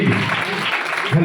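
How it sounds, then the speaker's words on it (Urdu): Loud clapping from a church congregation fills a brief moment, a dense wash of many hands with voices audible underneath. "زوردار تالیاں بجائیں"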